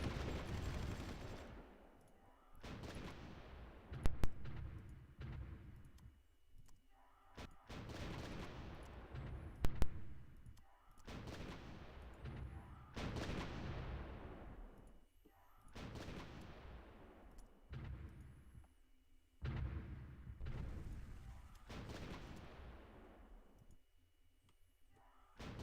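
Artillery fire in the Supreme Ruler Ultimate strategy game, a long series of repeated booming shots with sharp attacks and decaying tails, roughly every couple of seconds, fairly quiet overall.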